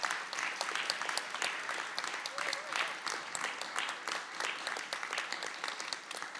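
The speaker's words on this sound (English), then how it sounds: "give a round of applause for each of our esteemed guests" Applause at a panel on Blackness, African indigeneity and computation as guests are welcomed: many hands clapping in a brisk, continuous patter, fairly close and even throughout, with a brief voice surfacing faintly in the middle.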